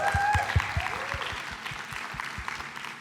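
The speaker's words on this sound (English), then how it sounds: "Another round of applause." Audience applause at a leadership workshop in London, a steady wash of clapping from a room of people, moderately loud and sustained throughout with no one speaking over it.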